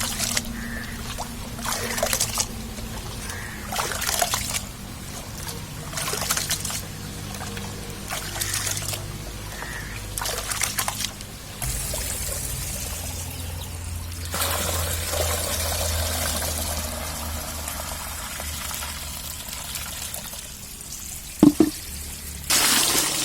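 Water is poured and swished over ration rice in a bowl to wash it before grinding murukku flour, a close, steady trickling and sloshing with intermittent splashes and no talk.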